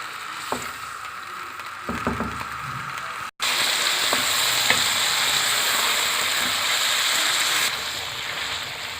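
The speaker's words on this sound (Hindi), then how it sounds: "अब इस चिकन को इस ऑयल में हम फ्राई करेंगे, थोड़ा सा नमक डाल के" Chicken pieces frying in oil with a little salt for a lemon chicken karahi: a loud, dense, continuous sizzle with scattered crackles and stirring clatter, briefly cut off once before resuming steadily.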